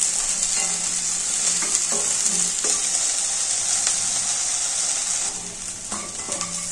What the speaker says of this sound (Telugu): మిరపకాయలు కూడా వేయించుకొని చేసుకోవాలి.